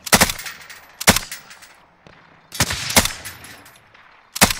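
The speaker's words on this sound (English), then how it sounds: "I don't even know what I'm shooting at" Automatic bursts from a Bruen MK9 rifle in Warzone, four loud, close, rapid-fire volleys separated by brief pauses, with no talking over them.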